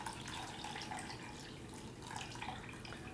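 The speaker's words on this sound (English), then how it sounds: "Now I'm gonna transfer the broth to another pot over a sieve so we can get rid of all the impurities" Broth is poured from one pot through a sieve into another, giving a steady soft splashing trickle of liquid that stays constant and fairly faint throughout.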